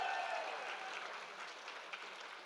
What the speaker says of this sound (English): Give her another round of applause for Emily.